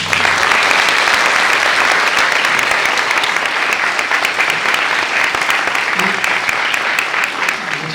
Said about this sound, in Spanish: Creo que un fuerte aplauso para Alberto.